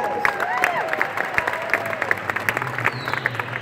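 Audience at a Winter Jam 2017 concert applauding a volunteer coming on stage, a crowd of scattered claps under cheers and whistles, with some talk over it.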